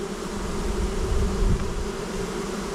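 Honey bees buzz continuously at an open hive in October, a dense, steady hum close by with low rumbling underneath and no speech.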